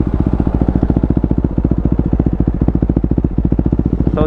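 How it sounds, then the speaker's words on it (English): Close, loud idle of a KTM RC 390 single-cylinder motorcycle through an aftermarket Akrapovic exhaust, a fast, even chain of deep thumping pulses with a slight rising blip at the end. "that is the sound of the Akrapovic pipe we installed on the RC390"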